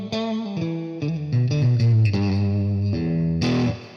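A Fender Stratocaster electric guitar on pickup setting two plays a short run of bright, clean chords and notes with effects, sustained and close, with no talking.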